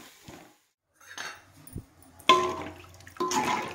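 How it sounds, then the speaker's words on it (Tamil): Tamarind extract is poured into a pot of okra tamarind curry seasoned with sambar powder: a few soft clinks, then two close, splashy pouring bursts of liquid, with no talking. "புளிக்கரைசலை எடுத்து ஊற்றிக்கலாங்க."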